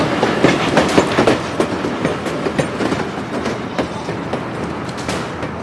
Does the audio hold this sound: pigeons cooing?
no